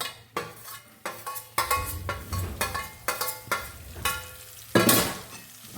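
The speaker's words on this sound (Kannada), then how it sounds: "ಹಸಿಮೆಣಸು ಹಾಕಿ ಚೆನ್ನಾಗಿ ಹುರ್ಕೋಬೇಕು." Green chillies frying in a pan while being stirred for a Kerala-style ginger curry (shunti saaru), with repeated sharp scrapes and clinks of a utensil against the pan over a steady sizzle, close and fairly loud.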